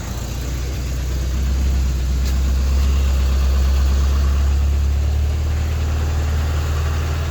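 A 1996 Geo Tracker engine idles steadily, with a loud, continuous low rumble and a faint mechanical hum that holds evenly throughout, close by and with no voices.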